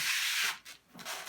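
Protective plastic film is peeled off a CyberPowerPC gaming PC case, giving close, loud crinkly rasps in a few quick pulls separated by a brief pause.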